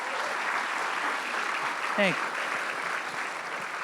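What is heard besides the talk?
audience applause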